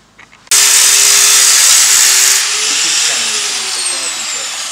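An angle grinder bites into the metal bodywork of a Toyota Corolla during wing replacement, starting abruptly with a loud, harsh, sustained scream that settles into a slightly lower steady grind.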